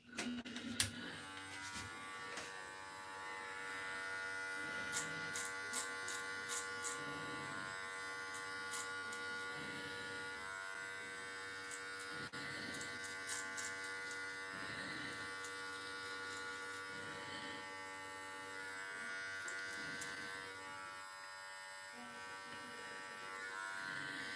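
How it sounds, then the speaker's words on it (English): Babyliss FX811 hair clippers buzz steadily through a self-administered haircut, a constant close electric hum with small shifts in pitch and pressure as the blades move, with no talking. "Your go-to clippers right now, I'm using the Babyliss FX811"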